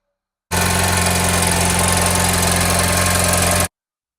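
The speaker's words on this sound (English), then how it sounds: "I think I have a running car" An R60 Mini Cooper Countryman ALL4 S engine idles with a steady, even hum and faint mechanical clatter, close and constant for about three seconds with no voices.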